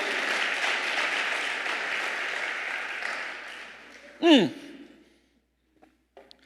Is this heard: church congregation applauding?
yes